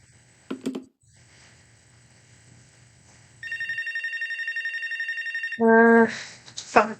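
A telephone rings in the video game Wavelengths, two clear electronic trills with a gap between them, after a brief knock and a soft low hum. A louder mixed burst closes the passage.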